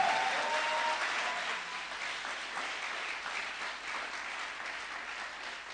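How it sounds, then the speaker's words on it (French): A church congregation applauds during a French-language service, with steady, dense clapping from many hands that starts strongest and eases off slightly while continuing throughout. "Est-ce qu'il y a quelqu'un qui peut donner des acclamations au Seigneur?"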